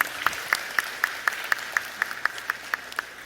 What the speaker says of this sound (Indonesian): Mbok kalau tepuk tangan tuh nggak jangan kayak zaman dulu loh